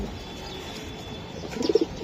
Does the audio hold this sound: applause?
no